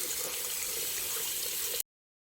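Tap water running steadily and faintly while hands are washed with soap, a soft continuous splash that stops abruptly.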